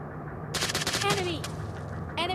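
Rapid gunfire from the mobile shooter game PUBG Mobile Lite, a quick burst of several shots with another short burst near the end, over a steady game background hum.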